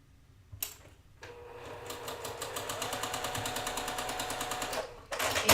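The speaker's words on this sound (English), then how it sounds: "we're gonna fold this right sides together and sew this together with the longer" A sewing machine runs close by, stitching quilt pieces together in a steady rapid rhythm of needle strokes for several seconds. It starts after a brief clunk, stops, and then whirs up again.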